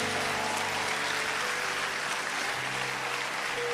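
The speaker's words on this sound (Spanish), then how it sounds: "Vamos a darle el aplauso fuerte a Dios." Church congregation applauding during a Spanish-language evangelical service, a steady dense wash of clapping held for the whole stretch, with organ or keyboard tones sustained underneath.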